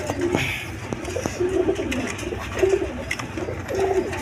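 Kalari Rajgolla pigeons cooing nearby in soft, repeated low coos spaced through the stretch over a faint background murmur.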